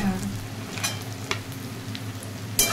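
Dried red chillies and cashews frying with onions in a pan, a steady low sizzle with a few sharp stirring scrapes, close and fairly soft.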